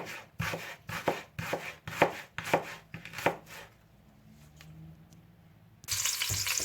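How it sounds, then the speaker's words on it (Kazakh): Knife chopping onions into half rings on a board for Shah plov, about eight steady, crisp strokes in even rhythm, followed by a quiet pause and then a burst of sizzling from a hot pot. "Пияздың барлығын жарты шеңбер етіп турап аламыз."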